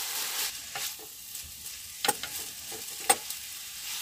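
Food sizzles in a pan with black soy sauce and chili vinegar, cooked at a night campsite in an Uttarakhand forest; steady frying hiss runs throughout, broken by a few sharp scraping clicks of a utensil stirring.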